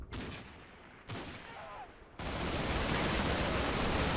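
Gunfire from a World War II company-level strategy game with Italian forces, heard as a faint, distant burst of shots followed by a dense, steady rattle of fire that fills the rest of the moment.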